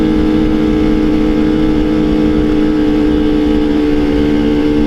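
A two-stroke Kawasaki Ninja motorcycle engine revs hard while climbing a hill, a loud, continuous, buzzing drone held steady throughout with no pauses.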